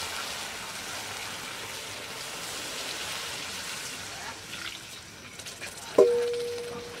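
Water poured into a pan of new potatoes frying for aloo dum hisses as a steady, close sizzle, broken near the end by a sharp clink and a brief ringing tone.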